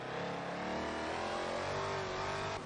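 A hypercar engine in a racing video game drones loudly and continuously, its pitch climbing and shifting as it revs, with no voices present.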